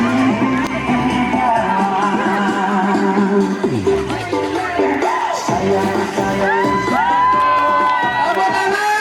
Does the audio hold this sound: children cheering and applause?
yes